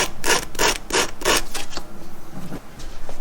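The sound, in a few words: filing a bevel onto a 1/4 inch shaft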